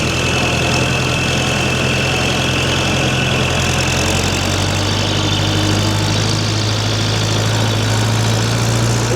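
A car engine runs steadily while driving, still cold, with a low continuous hum and a slowly rising tone. It sounds close and loud throughout, with no talk.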